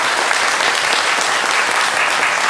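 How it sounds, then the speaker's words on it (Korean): A church congregation applauds to welcome a newcomer at a Sunday morning service, a steady, loud, even burst of clapping with no talking over it. "우리 박수로 우리 한번 환영하도록 하겠습니다"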